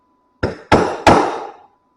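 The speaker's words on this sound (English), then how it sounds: "I'm going to grab a hammer. And again, just tapping this." A hammer tapping a metal trailer part during a repair, three sharp, ringing metallic strikes spaced a fraction of a second apart, each decaying briefly, close and loud with no talk.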